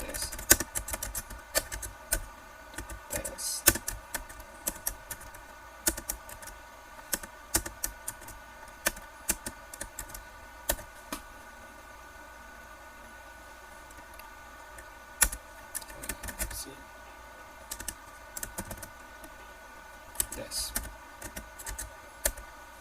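Typing on a computer keyboard, irregular bursts of clicky keystrokes close up, with pauses and a faint steady hum underneath.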